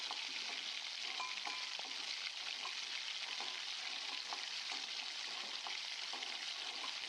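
Mutton curry with an onion tempering, salt, chili and turmeric cooking in a pot, giving a continuous, even frying sizzle with faint bubbling throughout, close and alone without voices.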